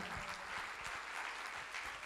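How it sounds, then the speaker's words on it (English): Quiet, distant applause from an audience at a performance event in Mumbai, an even wash of clapping heard over a brief stretch with a few low thumps underneath. "you have to give NCPA a huge round of applause for that."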